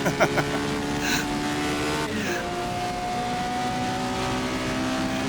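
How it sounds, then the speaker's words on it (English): A 1950s Formula One race car engine in the rFactor 2 racing game at the Solitude circuit drones steadily with harmonic whine, a few bumps in the road at the start and a pitch shift midway, like an in-car driving sound. "Did you hear the engine there from the bumps in the road?"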